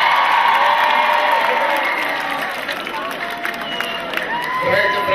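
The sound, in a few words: concert audience applauding and cheering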